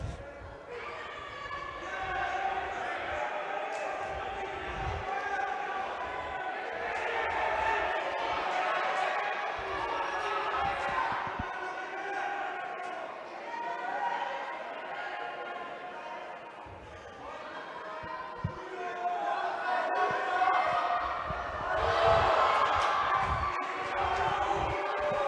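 A crowd cheers for a Hungarian judoka at the U23 European Judo Championships in Budapest, a steady roar that swells and falls in waves, with thumps from the mat and a commentator talking over it.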